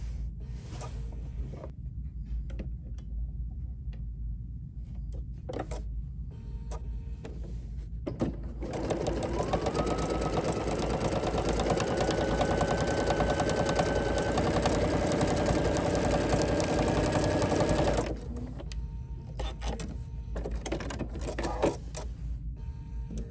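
A Bernina sewing machine runs a wide, long quilting texture stitch in one sustained whirring burst of about ten seconds, preceded and followed by quieter handling sounds and short mechanical clicks.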